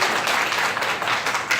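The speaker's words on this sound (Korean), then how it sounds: "박수 한번 주세요." A church congregation at a summer retreat bursts into dense, continuous applause, loud and close, many hands clapping together with no talking over it.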